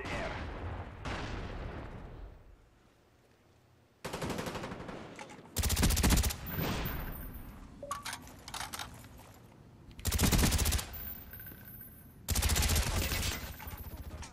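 Rapid bursts of Black Ops gunfire in an online match, loud and close, coming in several separate clusters with short quieter gaps between them and no talking over them.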